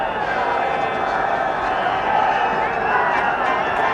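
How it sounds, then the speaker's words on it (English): A cricket crowd at the 1983 World Cup semi-final between India and England murmurs in a steady, distant roar as the Indian section reacts to an umpire's decision, with a commentator talking over it. "But Indian section of the crowd not quite in agreement with him."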